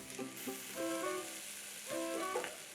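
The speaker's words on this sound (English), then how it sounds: "Saute the veggies for a minute" Chopped carrot, green peas and tomato sauté in a pan with a low, quiet sizzle, while tonal clinks and chimes ring out in two short bursts over it.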